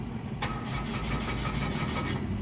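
A 2024 Mitsubishi Mirage that refuses to start, heard close as a steady cranking whir with rapid repeated pulses after a sharp click, the engine never catching.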